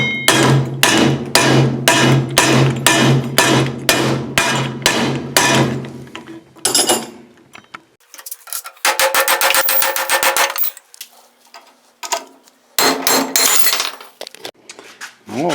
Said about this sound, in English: I'm going to put it back in the vise with that board there, and I'm going to just tap it out the rest of the way.